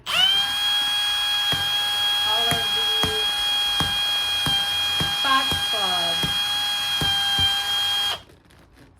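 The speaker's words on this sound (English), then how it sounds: "So I want to drill holes in the bottoms of my cups for drainage." A high-pitched electric drill whines steadily for about eight seconds with faint clicks as it bores drainage holes in the bottoms of plastic cups, while a person talks briefly under it; it stops abruptly at the end.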